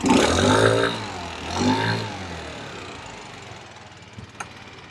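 A QMB139 scooter engine fitted with a freshly installed big bore kit, revving in two short bursts before settling into a quieter, uneven idle with light mechanical clatter, heard close up.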